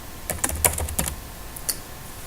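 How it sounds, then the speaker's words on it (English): Keys tapped in a short burst on a computer keyboard while a name is entered during Ubuntu setup: several quick clicks, then a pause and one or two final taps, close and fairly quiet. "you could type in a name here"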